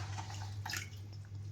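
Washed guar beans (cluster beans) being squeezed by hand, water dripping and splashing back into a bowl before going into a pressure cooker; soft, close, irregular trickles and drips over a steady low background hum, no talking.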